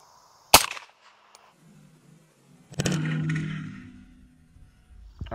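A single rifle shot of 7.62x39, the AK-47 caliber, fired into sandbags: one sharp loud crack, then quiet until a second burst of rumbling, rustling noise arrives about two seconds later and fades slowly.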